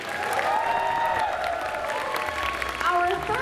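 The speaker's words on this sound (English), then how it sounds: "Round of applause for Freddie Clement." An audience at a Friday night costume contest claps and cheers briefly, with a voice carrying over the applause.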